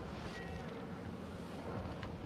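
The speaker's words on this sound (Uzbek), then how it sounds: "Qattiq shamol bo'lyapti-da bu yerda." Strong wind buffets the microphone outdoors, a steady broadband roar with gusts throughout, loud and close, with no voices.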